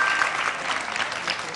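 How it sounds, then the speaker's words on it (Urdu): Studio audience clapping during a quiz segment on a Ramadan iftar television show, a brief burst of lively applause that stays steady and fairly loud throughout. "ان کے تکے کے لیے تالیاں"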